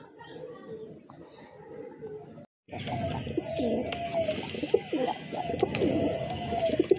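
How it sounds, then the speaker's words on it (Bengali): Pigeons of a Rajgolla breed, blue-coloured birds kept at a pigeon farm, coo softly and repeatedly in close range, with a short gap of quiet before the cooing grows fuller amid faint background chatter. "আরেক জোড়া কবুতর এটা হচ্ছে আপনার রাজগোল্লা কবুতর"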